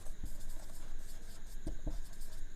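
Pen-on-paper writing of a word by hand during an English lesson, a soft, steady scratching with a few light taps, close and quiet, with no talking.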